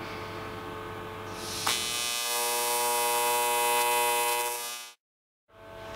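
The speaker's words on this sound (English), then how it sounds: "I'll go weld the other end and then I'll take the clamps off" Welding on the hinge end of a homemade sheet metal folder: a steady, close electric buzz starts abruptly, holds for about three seconds, then cuts off to near silence. No talking.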